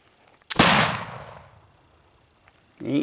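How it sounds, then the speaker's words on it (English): A flintlock rifle fires once outdoors at a morning shooting session, a sharp crack followed by a long booming decay that fades over about a second, then faint voices start at the end. "Ain't nothing like a flintlock in the morning."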